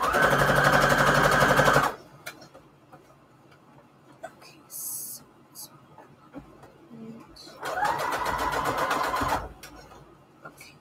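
Sewing machine running a straight stitch at the longest stitch length, sewing fabric onto index cards; two loud steady bursts of machine whirring, one at the start and one near the end, separated by a quiet stretch with soft handling noises.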